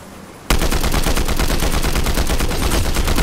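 Combat Assault Rifle fire in Fortnite starts abruptly and keeps going as a rapid, steady automatic burst, loud and close, with no talking over it.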